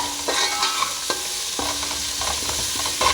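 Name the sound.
ginger garlic paste frying with onion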